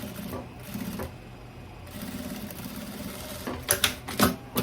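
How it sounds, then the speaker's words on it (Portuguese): A sewing machine stitches over an existing seam on a pocket in tailoring fabric, a quiet, close run with a brief stop, then short choppy bursts near the end. "Eu vou vir aqui e vou passar uma costura em cima dessa costurinha que já tem aqui no meu bolso"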